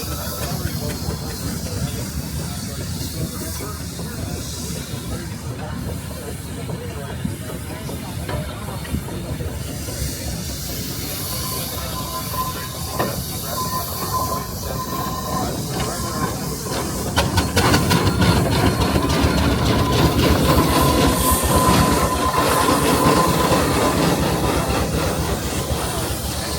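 Steady steam hiss and mechanical clatter come from a 1923 John Fowler steam engine at a threshing festival, swelling louder and busier in the second half, with a brief tonal whine midway.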